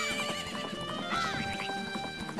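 A horse whinnies in a video game, a clear drawn-out neigh with a few hoof clops around it, close and fairly quiet, no talking over it.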